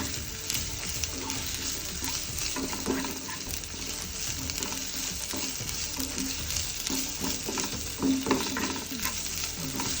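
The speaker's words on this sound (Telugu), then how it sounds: "ఈ అల్లం వెల్లుల్లి పేస్ట్ కూడా పచ్చివాసన పోయే విధంగా వేయించుకోవాలి." Ginger garlic paste fries in a pan over medium flame, a steady wet sizzle broken by scraping stirs, fairly close and without talk.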